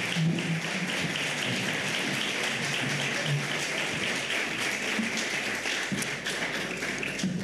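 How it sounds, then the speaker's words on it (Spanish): A ceremony audience applauds two police officers, a dense, steady patter of many hands clapping continuously for about seven seconds, evenly loud throughout with no pause. "Un aplauso para ellos dos,"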